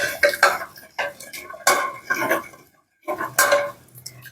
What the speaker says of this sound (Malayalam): പരിപ്പ് നമുക്ക് നല്ലപോലെ ഒന്ന് ഉടച്ചു കൊടുക്കാം